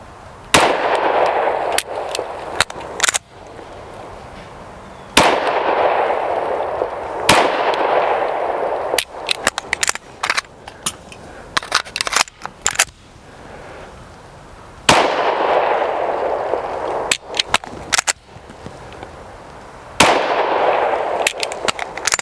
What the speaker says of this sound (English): you fire, you press the trigger, it goes bang, bang, click